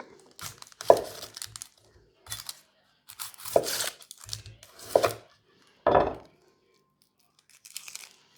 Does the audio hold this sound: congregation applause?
no